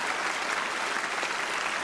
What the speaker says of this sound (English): A round of applause for Camel.